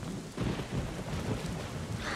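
Rain and thunder from The Legend of Zelda: The Wind Waker HD, a steady broadband rain hiss with low rumbling thunder swelling underneath, continuous and fairly loud, with no talk over it.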